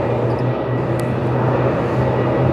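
A jet engine at Melbourne Airport spools up as a steady, loud roar, with a low hum running underneath and no voices.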